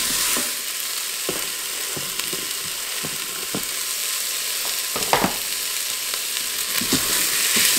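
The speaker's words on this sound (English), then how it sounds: "it's when your vegetables are starting to saute and maybe brown a little bit" Vegetables and garlic scapes sizzle steadily in a pan, with a constant frying hiss broken by intermittent scraping stirs.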